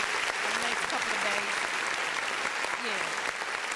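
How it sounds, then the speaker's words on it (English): An audience claps steadily in a dense, continuous wash of applause that lasts the whole stretch, with voices talking over it. "Nah, they still clapping."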